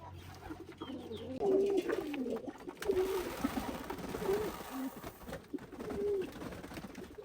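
Pigeons coo in a crowded space packed with birds, with several low, rolling coos repeating at a moderate level over a steady murmur of background noise.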